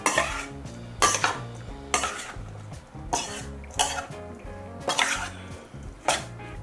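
Ingredients for a spicy sliced pork belly salad are tossed together in a bowl, giving rhythmic bursts of clattering and scraping about once a second over faint background music.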